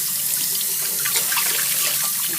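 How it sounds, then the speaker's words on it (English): Lukewarm tap water runs steadily into a sink, rinsing linen dyed with Kool-Aid; a continuous close splashing flow with no voices. "I'm going to rinse it out with like lukewarm water"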